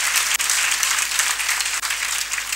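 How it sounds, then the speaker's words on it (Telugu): Audience applause at an award ceremony held for a coaching centre director's birthday, steady dense clapping from a crowd, loud and sustained throughout with no talk over it. "ఒకసారి అందరు గట్టిగా క్లాప్స్ కొట్టండి"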